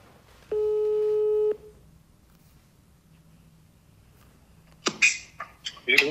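A single steady telephone tone sounds for about a second while a call is placed, then quiet follows until a voice begins speaking.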